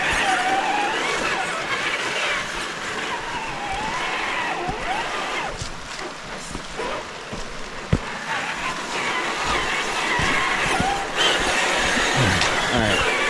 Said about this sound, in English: this TRAXXAS TRX4 has a mind of its own.